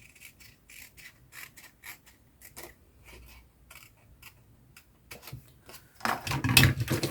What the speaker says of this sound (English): I'm just going to try and cut this with my scissors.